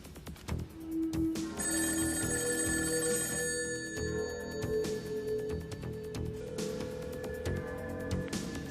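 Telephone bell ringing repeatedly with no answer in a French-dubbed action film scene, steady tonal rings over a busy background of music and noise.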